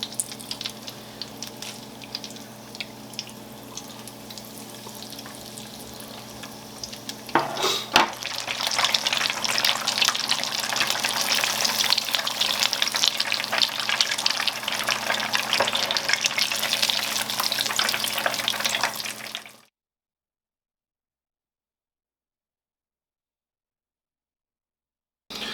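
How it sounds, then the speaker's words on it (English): Food frying gently in a heated deep fryer, a few pieces at a time, with a steady close bubbling sizzle that swells louder partway through and then cuts off abruptly. "our deep fryer is heated up, so we're going to go ahead and take our slotted spoon here, and work probably about 2 or 3 at a time here, and just fry these off gently"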